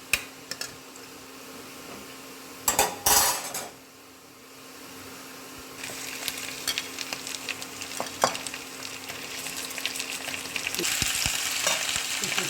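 Onions sizzle in a pot as they are stirred steadily, with scrapes and clinks of the spoon, a quieter lull in the middle, then the frying grows louder and denser toward the end, close up with no talk.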